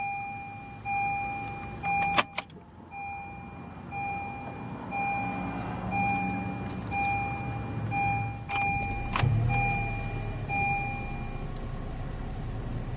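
A 2011 Honda CR-Z Sport hybrid starts up almost silently inside the cabin: repeating warning chimes, a couple of sharp clicks and a brief low rumble as the engine comes on.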